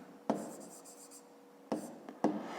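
A pen writing a unit in brackets on paper during a fifth-grade maths exercise, three quiet scratching strokes with soft sliding between, close and faint, no talking.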